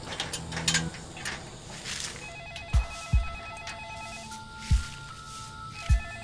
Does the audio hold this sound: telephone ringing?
yes